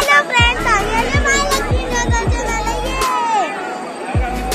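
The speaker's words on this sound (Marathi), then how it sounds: "मंदिराच्या आवारात एवढी गर्दी होती" A bustling crowd fills the Mahalakshmi Ambabai temple courtyard in Kolhapur on a busy holiday weekend, with children's voices and general chatter over a steady murmur and repeated low thuds.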